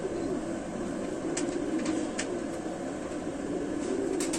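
Pet pigeon of the red-headed (Lal Sira) breed, held close while being shown, giving soft, low, continuous cooing against a steady background hum.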